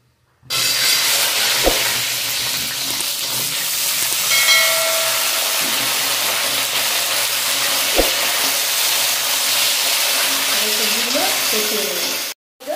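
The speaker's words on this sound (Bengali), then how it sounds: "এখন তেলের মধ্যে সবজিগুলো দিয়ে দেবো" Vegetables hit hot oil seasoned with panch phoron for shukto, a steady close sizzle and hiss that carries on for about twelve seconds, with a couple of sharp utensil knocks and some stirring.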